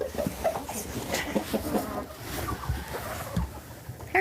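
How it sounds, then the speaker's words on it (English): Several chickens cluck softly and intermittently nearby in an outdoor yard, with short calls scattered over a light background of rustling and movement. "There's more chickens."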